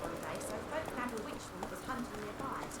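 Horse hooves clip-clopping in The Witcher 3, a steady, moderately close trot that runs under a person talking.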